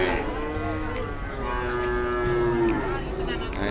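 A young female calf lows at the Kunden Wirosari cattle market in Purwodadi, one long, drawn-out moo close by, over a busy background murmur of the market.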